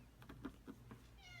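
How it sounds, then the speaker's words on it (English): A house cat meows softly several times in a row, a short series of faint, evenly spaced calls in a quiet indoor room with a steady low hum underneath. "There's my cat."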